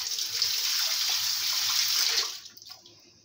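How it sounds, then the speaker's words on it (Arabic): Running tap water splashes steadily over hands being washed in a kitchen, a close, continuous hiss that stops abruptly near the end, followed by a few small drips. "نغسل ايدينا."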